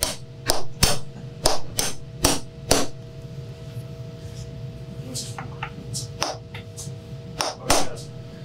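Sharp metal hammer strikes on a nail set while building a western saddle, a run of about eight loud, evenly spaced blows, then sparser lighter taps and a few final knocks.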